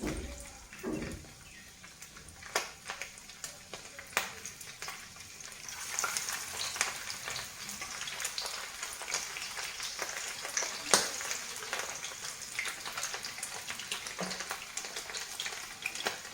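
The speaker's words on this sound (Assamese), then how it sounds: "এয়া এটা এটাকৈ এতিয়া ভাজিম।" Small fish pakoras dropped one by one into hot oil over a low flame, giving a steady soft sizzle and crackle that grows denser after the first few seconds, with occasional sharp pops and stirring clicks.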